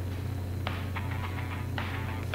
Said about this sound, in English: That is my CPU fan.